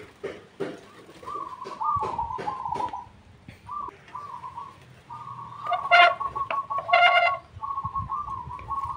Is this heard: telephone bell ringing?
no